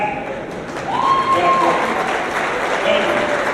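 An audience at an athletics banquet claps in a dense wash of applause, with a whistle rising briefly and voices talking underneath.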